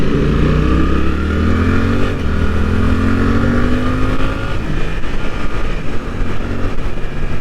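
A Suzuki GSX-8R motorcycle engine pulls steadily while being ridden, its loud, continuous drone rising in pitch as the rider shifts up, with wind rush throughout and no talk.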